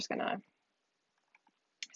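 A computer mouse gives a quick double click, two faint, closely spaced taps in a quiet pause, with a person speaking just before and after.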